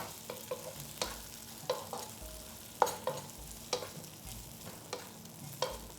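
Potatoes fry with chili and garlic for spicy batata harra: a soft, low sizzle runs under rhythmic spatula scrapes and taps that come roughly every half second. Nobody speaks.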